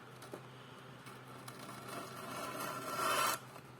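A knife blade is drawn across wet sandpaper for sharpening, producing faint rasping strokes that build into one longer, louder scrape near the end before stopping, close but quiet over a low background hum.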